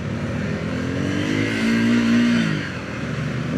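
Triumph 400X Scrambler motorcycle engine revving up and back down, a loud, close single rise in pitch held for a moment before settling to a steady idle, with no talking.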